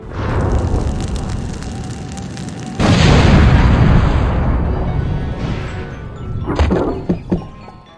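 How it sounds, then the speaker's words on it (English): A rubber tree blown up in The Curse of Monkey Island, a loud booming blast that swells suddenly partway through and rumbles on before a few sharp thuds and clatters at the end. "I'm sure us blowing up a rubber tree won't come back to bite us in the end"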